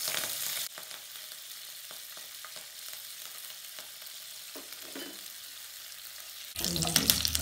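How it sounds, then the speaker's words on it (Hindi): Mustard seeds and curry leaves crackle in hot oil for lauki ki muthiya, a steady fine sizzle with small pops and light clinks, swelling into a louder burst of frying near the end. "राई तड़क जाएगी उसके बाद हम लोग ये इसमें कड़ी पत्ता डाल देते हैं"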